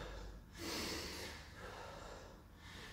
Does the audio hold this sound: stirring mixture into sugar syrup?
no